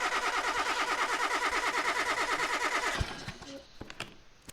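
A Ford Crown Victoria police car in the Car Mechanic Simulator 2018 game cranks with a fast, rhythmic starter churn for about three seconds. It then cuts out abruptly into a few scattered clicks and clunks as the engine fails to catch.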